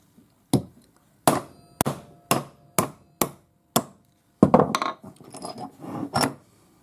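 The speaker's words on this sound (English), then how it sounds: "put your cutter in, give it a good smack, and you can see I've got a pretty heavy hammer." A heavy hammer strikes a steel disc cutter while a metal disc is punched for a pearl ring, giving a series of sharp, ringing metallic blows at uneven intervals, loud and close, with a cluster of rattling hits near the end.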